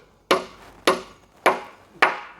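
Four evenly spaced, heavy pounding blows on wood while a house post is set upright, each a sharp loud thud with a short ringing decay, close by and with no talk.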